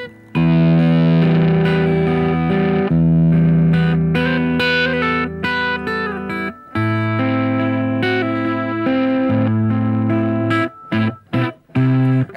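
An electric guitar plays a loud, sustained rock riff on its own, with thick chords ringing over a steady low end before breaking into choppier strummed hits near the end.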